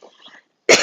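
A single sharp cough bursts out near the microphone after a moment of faint background sound, loud and abrupt.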